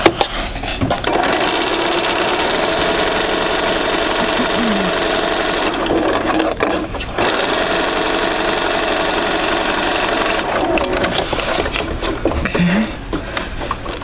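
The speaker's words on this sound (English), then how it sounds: "We're going to sew 1/4 inch on either side to make half square triangles." A sewing machine runs steadily and loudly, stitching quilt half square triangles a quarter inch from the seam line, with a continuous motor whir and rapid needle patter broken by two brief pauses.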